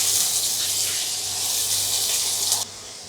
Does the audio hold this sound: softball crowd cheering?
no